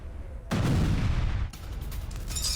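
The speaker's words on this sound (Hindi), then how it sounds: "ये देखिए, एक के बाद एक धमाके।" Explosions from drone attacks in Zaporizhzhia: two sharp blasts strike one after another about a second apart, each with a rumbling tail.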